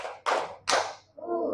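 A classroom of students claps together in unison, giving a few sharp, loud group claps in quick succession, followed by a brief voice.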